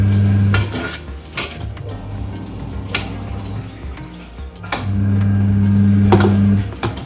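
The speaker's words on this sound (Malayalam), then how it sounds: "ഇങ്ങനെ ഇടയ്ക്ക് ഇളക്കി കൊടുക്കണം." Prawn thoran is stirred in a clay pot, giving clattering scrapes and clinks of a utensil against the pot in uneven bursts, close up over a steady low hum.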